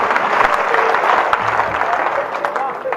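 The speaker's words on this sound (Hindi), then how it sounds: "हाथ उठा के ताली बजनी चाहिए साहब" The audience at a Hindi comic poetry gathering (hasya kavi sammelan) breaks into loud, sustained clapping. The applause is dense and continuous, with voices mixed in.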